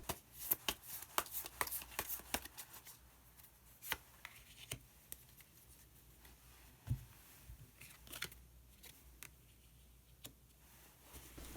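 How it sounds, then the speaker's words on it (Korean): Tarot cards being shuffled and drawn, with soft repeated flicks and light taps, dense at first then thinning to scattered faint clicks, close and quiet with no talking. "그러면 마지막으로 마법사 카드 한 장 더 뽑아보도록 하겠습니다."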